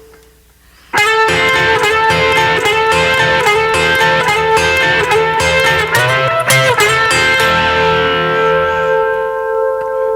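An electric guitar plays the solo, with heavy effects, distortion and reverb: a sudden loud entry, then sustained bending, sliding notes and ringing tones that decay toward the end, with no voices.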